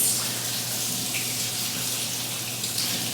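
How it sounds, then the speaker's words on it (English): Water gushes from a tap during handwashing, a loud, steady, close rushing stream filling the space without pause, with no speech. "let's go ahead and wash my hands"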